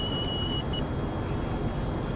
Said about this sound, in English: the vigilance alarm there caught me off there for a moment